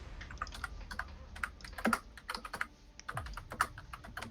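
Typing on a computer keyboard: rapid, irregular clicky keystrokes close to the mic, with short pauses between bursts and a louder cluster of clacks near the middle, alone without speech.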